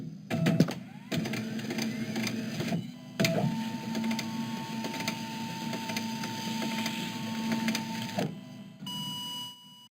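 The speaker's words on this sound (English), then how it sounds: "fax machines are a bit outdated nowadays" A fax machine in Resident Evil 2 prints out a report, a continuous mechanical whirring and buzzing with rapid clicks and a steady tone, running nearly ten seconds before cutting off abruptly.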